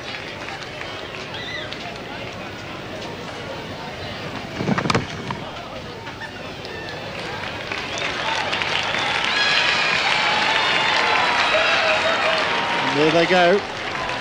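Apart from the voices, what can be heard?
cricket crowd applauding at Hobart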